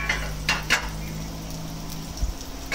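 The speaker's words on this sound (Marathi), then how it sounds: "आता आपण दळलेलं सर्व साबुदाण्यामध्ये मिक्स करायचं व्यवस्थित." Ground mixture being stirred into soaked sabudana for khichdi, with a few soft scraping clicks and a steady low background hum close by.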